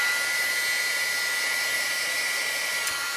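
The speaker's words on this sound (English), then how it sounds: "It's good to heat it a little bit. Your embossing gun. This is not a blow dryer." A heat embossing gun blows hot air in a steady, loud, continuous whoosh like a hair dryer, running without a break and with no talk.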